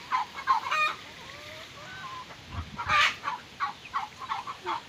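Domestic goose near newly hatched goslings, with soft honks and calls plus thin high peeping in a farmyard, mixed with clucking fowl; moderate level, repeated short calls over background noise.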